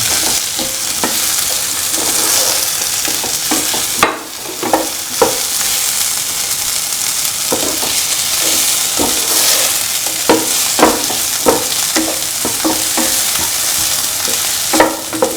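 Bitter gourd pieces sauté in a pan, with loud continuous sizzling and a busy rhythm of spatula scrapes and clacks repeating throughout, close up and without talk.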